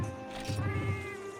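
Felyne cat chef in Monster Hunter Freedom Unite giving a short, clear meow that rises and falls, close and alone.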